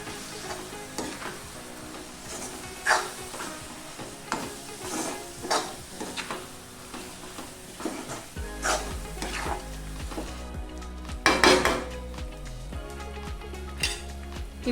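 Chicken being mixed with coriander powder, chili powder and salt in a cooking pot gives a steady run of soft stirring scrapes and utensil knocks over a faint sizzle, a few louder clanks near the end, with no talking.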